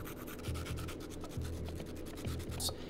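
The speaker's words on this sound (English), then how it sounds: "Marbury then uses sandpaper to shape the skull and teeth." Sandpaper rubbing and shaping a sculpted monkey skull and its teeth, a steady close scratchy rasp with a few heavier strokes that repeat at an even pace.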